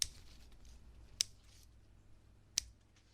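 Three crisp, isolated snips, spaced about a second apart, as extra foliage is clipped from a nut tree cutting, close and clear against a quiet background.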